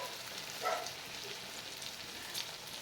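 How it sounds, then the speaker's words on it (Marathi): Wheat-flour snack pieces deep-fry in oil over a medium gas flame, giving a faint, steady bubbling sizzle with a couple of slightly louder pops. "मिडियम गॅसवरच आपल्याला हा नाश्ता कुरकुरीत असा तळून घ्यायचा आहे"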